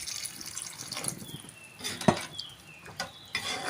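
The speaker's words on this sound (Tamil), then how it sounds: "நல்லா கலந்து விட்டு மூடி போட்டுடலாங்க." A spoon scrapes and clinks against a metal pot while thick tamarind curry with elephant foot yam is stirred, with a few sharp knocks among softer sloshing.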